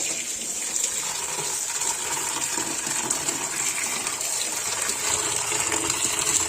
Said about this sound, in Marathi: आपण ही जी भाजी आहे ती धुवून घेऊया नाराखाली धुवून घेतो मी